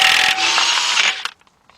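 Power tool whirs loudly for about a second while spinning off a 1 1/4 inch axle nut on a 2011 Jeep Patriot 2.0, then stops abruptly, followed by faint clicks.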